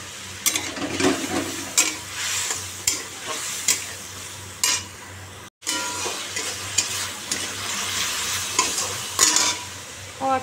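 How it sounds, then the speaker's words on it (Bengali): Black cumin seeds tempering in hot oil for a pabda fish curry sizzle steadily throughout, broken by repeated scrapes and clinks of a stirring spoon against the pan. "কালো জিরে ফোড়ন দিলাম"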